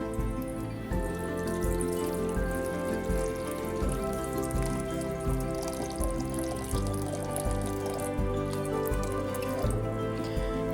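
Tap water runs into a glass bowl for bread dough, a continuous close trickling and splashing stream with steady gurgling, alone and fairly loud throughout.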